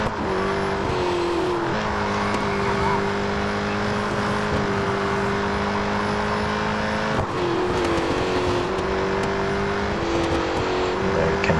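A Ford Falcon FG X Supercar in Real Racing 3 screams at full throttle, its engine drone holding steady and loud with a brief dip and surge as it shifts mid-run, carrying on alone without talk.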